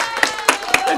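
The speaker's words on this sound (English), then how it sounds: "Clap for yourself, please." A few scattered claps from a small audience, three or four distinct sharp hits spaced irregularly, with some voices murmuring underneath.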